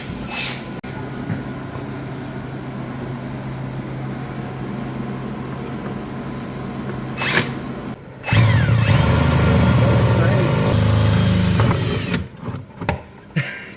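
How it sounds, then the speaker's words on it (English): A power drill bores a hole through the plastic body of a Power Wheels ride-on toy, whirring loud and steady for about four seconds after a stretch of quieter background hum. "now that we've got the hole drilled"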